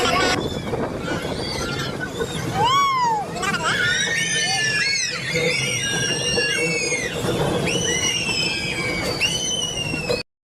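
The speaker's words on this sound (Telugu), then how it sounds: "ఇది ఫస్ట్ టర్నల్, అందుకే కొంచెం బాగా అరుస్తున్నారు" Passengers on the Araku train out of Vizag whoop and scream inside the first tunnel, rising and falling squeals from many voices over a constant loud rumble of the moving train.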